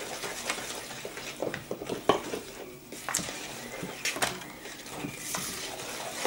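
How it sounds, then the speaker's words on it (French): Cookie batter with butter being stirred in a bowl, an irregular run of scraping, clinking utensil-on-bowl knocks and soft wet mixing sounds, close and moderately quiet, without talk. "Voilà, on mélange bien."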